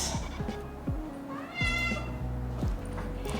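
A year-old ragdoll cat that has just had kittens meows once, clear and close, amid a steady low rumbling background with repeated soft thumps.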